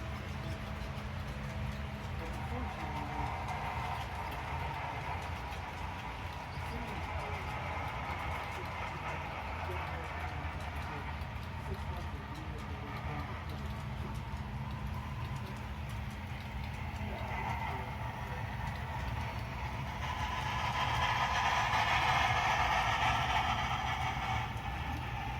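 A small HO scale model train rumbles along a layout with a soft continuous clatter, growing a bit louder and brighter near the end, with no voices.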